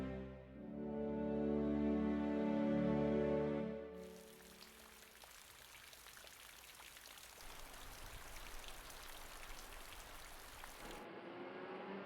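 Steady spring rain falls with an even, close hiss of patter that follows a short passage of music and runs on alone for several seconds.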